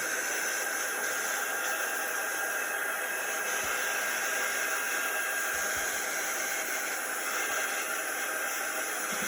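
A heat drying tool blows over chalk paint in a steady, continuous hiss of hot air, close and unbroken for the whole stretch, with a few faint low knocks beneath.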